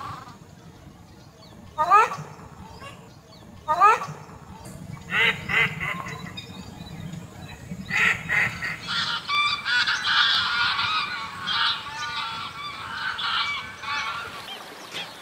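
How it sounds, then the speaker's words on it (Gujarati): Waterbirds at the Thol Bird Sanctuary lake in Gujarat give honking, goose-like calls, a few loud ones near the start, then a dense, steady chorus of overlapping calls from many birds. "એકવાર અહીંયા આવીને પક્ષીઓનો કલરવ અચૂક સાંભળવા જેવો છે."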